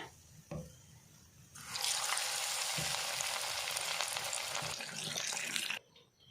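Boothai sardines sizzle loudly in hot oil, a dense, steady crackling hiss that bursts in after a couple of soft knocks, holds for about four seconds, then cuts off abruptly.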